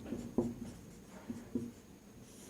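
Chalk or marker strokes on a board during a maths lesson, a few short scratchy taps and squeaks spaced irregularly, fairly close and quiet with no voice over them.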